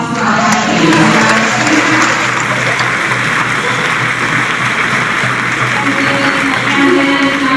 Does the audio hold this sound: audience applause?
yes